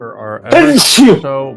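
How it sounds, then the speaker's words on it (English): A single sharp sneeze bursts out loud and close, with a person talking immediately before and after it. "Oh, you guys can hear me sneeze now."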